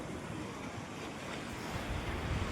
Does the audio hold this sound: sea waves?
yes